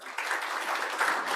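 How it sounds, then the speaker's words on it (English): Brief applause at a business showcase livestream, a short burst of dense clapping at moderate loudness. "I was waiting for the applause"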